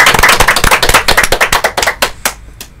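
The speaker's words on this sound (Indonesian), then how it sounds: "Kita tepuk tangan untuk kita semua." A small group of people clap hands together at the close of an Indonesian podcast about teachers, a close burst of quick, uneven claps that thins out into a few scattered final claps.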